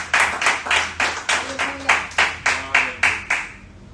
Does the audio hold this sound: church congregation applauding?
yes